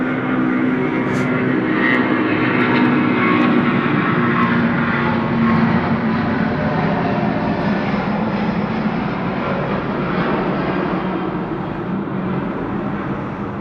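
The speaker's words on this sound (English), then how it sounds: "Malaysian Airlines now rolling 16 right off to Kuala Lumpur" A Malaysia Airlines jet in special livery takes off from runway 16 right at Sydney Airport, bound for Kuala Lumpur. A loud, steady engine roar holds for the whole stretch and stays near and continuous.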